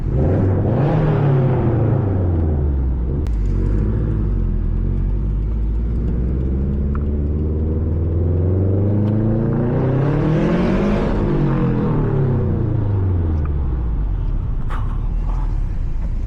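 Subaru WRX with about 350 horsepower and a Tomei titanium exhaust, loud and close, revving repeatedly with rising and falling engine pitch, the biggest rev climbing to a peak before settling back to a rumbling idle.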